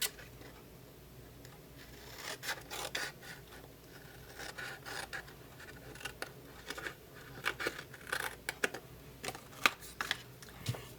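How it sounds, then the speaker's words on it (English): Scissors cut a flap off a cardboard box for a Halloween craft, making faint, irregular crunchy snips and scraping rustles close by, with brief clusters of quick cuts. "this flap right here, we're going to cut this one off altogether."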